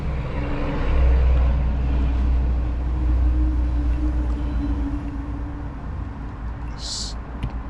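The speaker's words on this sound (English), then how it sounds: "Sorry about the truck noises again." A truck passes outside, a low rumbling drone that swells and then slowly fades, heard from indoors behind steady background noise.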